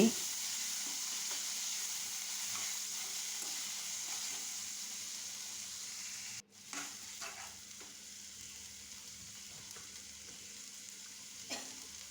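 Mashed pointed gourd (potol) frying in a pan keeps up a faint, steady sizzle and hiss, with a brief knock partway through and occasional soft stirring scrapes.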